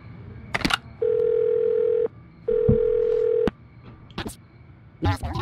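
A phone in the video game Do Not Feed the Monkeys rings unanswered, giving two long, steady electronic tones separated by a short pause, with brief clicks and a voice around them.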